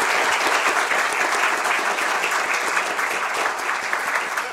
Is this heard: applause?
yes